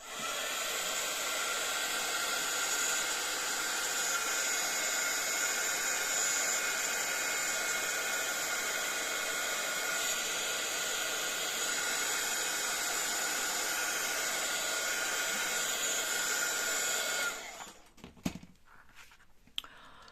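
Hair dryer blowing on an inkjet print on tissue paper, a loud, steady whooshing roar that runs nearly the whole time, then cuts off near the end, followed by a few faint handling knocks.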